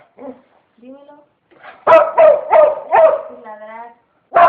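A dog giving a series of short, close, loud yips and whimpering barks in a quick burst of four, with brief whiny vocal sounds before and another bark at the end.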